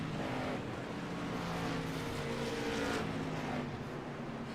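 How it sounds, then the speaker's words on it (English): Street stock race car engines during a race at South Boston Speedway, a loud continuous roar of engine noise with shifting pitch, heard from inside the action. "Too much engine noise?"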